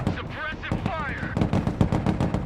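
Rapid gunfire bursts crackle in a Broken Arrow battle, sharp close shots in quick succession mixed with distant booms while soldiers' voices call out over the fighting.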